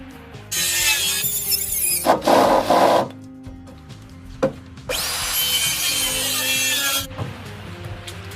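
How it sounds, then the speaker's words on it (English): Wooden beams salvaged from pallets are cut to size for a garage roof, with loud rasping bursts of a saw biting through timber. There are two long cuts and a shorter one between them, separated by brief pauses. "wooden beams are prepared and cut to precise dimensions."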